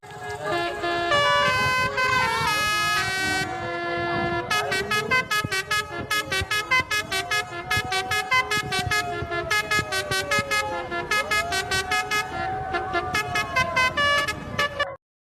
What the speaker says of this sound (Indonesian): klakson pada bus malam sangat bergantung pada tekanan udara dari kompresor